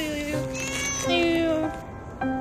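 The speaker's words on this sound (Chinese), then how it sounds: "小猫咪" A thin, pregnant stray kitten meowing up close, several short high-pitched pleading meows in quick succession, loud and clear, with a person speaking softly around them.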